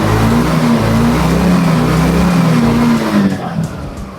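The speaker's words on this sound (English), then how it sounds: "this is what your buggy should sound like once it's cold started" Challenger 200X or 300X UTV buggy engine idling low after a cold start, a loud, steady throbbing drone that settles and drops off near the end.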